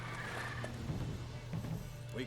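A horse named Roach whinnies in The Witcher 3, the neigh sitting over steady game ambience and a low hum, with a few faint hoof sounds mixed in.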